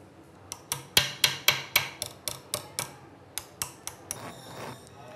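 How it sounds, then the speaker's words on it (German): Hammer blows shaping gold into a curved form by hand, a run of about a dozen sharp, ringing metallic strikes in a steady rhythm, close and loud, fading slightly toward the end with a few lighter taps. "Nach Hunderten von exakt ausgeführten Hammerschlägen entsteht die gewünschte Wölbung."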